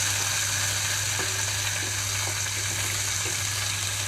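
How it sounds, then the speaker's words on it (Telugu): Chopped green chilies and coconut sizzle steadily in hot oil in a pan, a close, continuous crackle with occasional stirring clinks and no talking. "ఆయిల్ కొంచెం హీట్ అయిన తర్వాత పచ్చిమిరపకాయలు చిన్న ముక్కలుగా కట్ చేసి వేసుకుంటున్నాను"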